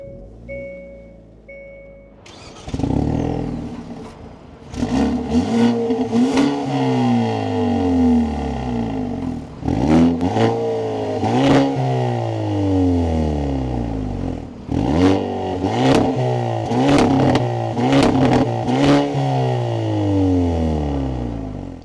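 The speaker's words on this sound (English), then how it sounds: "inside the 2025 Elantra N, keep my foot on the brake and the clutch, we can go ahead and fire it up" A 2025 Hyundai Elantra N with manual clutch starts up, its engine catching and then revving repeatedly in sharp rising and falling blips, loud and close from inside the car.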